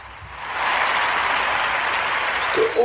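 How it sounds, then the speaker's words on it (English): A large audience at a Kuumba community gathering during Umoja week breaks into dense, even applause that swells within the first half-second and holds strong as a continuous wash of claps. "Want to give all the Kuumba babies a round of applause."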